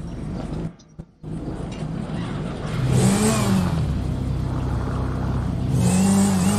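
Cars driving and revving in a video game, a steady mid-pitched engine drone with rising revs and whirring accelerations, loud and continuous apart from a brief dip near the start.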